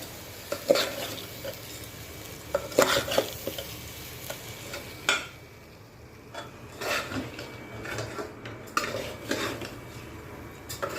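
Rice is stirred into Maharashtrian masale bhat in a pot, giving intermittent scraping and clinking of a spoon against metal in bursts, with soft background noise and no talking.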